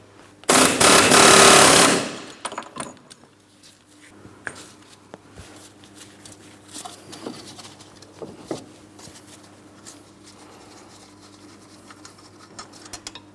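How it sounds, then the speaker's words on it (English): An air hammer pounds against the ball joint mounting nut on a 2003-2007 Cadillac CTS rear suspension, a loud dense rattle lasting about a second and a half, followed by quieter shop clatter. "To do this, I'm going to be using an air hammer. I'm going to hit up against the mounting nut here."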